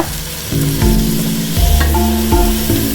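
Mushroom biryani ingredients mixed with yogurt in a hot pan, loud close sizzling broken by several heavy scraping and stirring strokes, each stroke sharp and distinct, with no voices.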